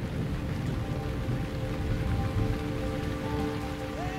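A violent rainstorm with thunder sweeps the open grassland of Liuwa Plain, steady heavy rain drumming loudly and continuously with a low rumble beneath, with no voices.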